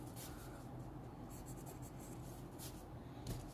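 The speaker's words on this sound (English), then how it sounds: "I love writing with this pen" Fountain pen nib scratching across paper, a fine-point Parker Falcon with a wet nib laying down ink; a faint, steady rustle of writing strokes close up, with no voices.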